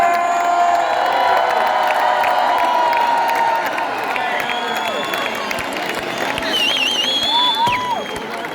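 A concert audience in Kitzbühel cheers and claps loudly, with whoops and whistles rising over continuous applause that eases slightly toward the end.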